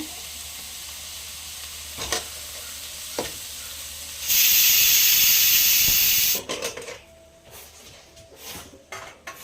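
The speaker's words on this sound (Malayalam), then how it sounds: "കറിവേപ്പില ഇട്ട് കൊടുക്കുകയാണ്" Curry leaves dropped into hot oil with onions in a home kitchen burst into a loud, bright sizzle lasting about two seconds, then settle into quieter crackling and stirring clatter.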